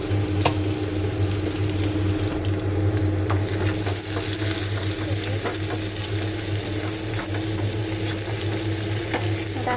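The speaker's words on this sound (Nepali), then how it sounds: "फ्राई गर्ने प्याजलाई चाहिँ" Onion frying in oil in a pan, a loud, constant close sizzle with light stirring clicks and scrapes running steadily throughout.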